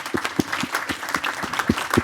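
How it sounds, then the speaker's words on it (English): Brief round of applause from a conference audience at a data centre summit, a modest scatter of distinct hand claps, fairly close and clear, with faint voices underneath. "Give yourselves a round of applause."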